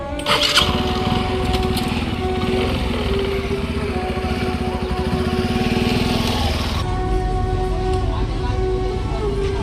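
A motorcycle engine starts up and idles with a loud, rapid, sputtering putter close by, holding steady throughout.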